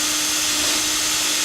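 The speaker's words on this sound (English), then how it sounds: "So I drill my pilot hole." Electric drill boring a pilot hole into wood, heard as a steady, loud, continuous whirring hum with no pauses.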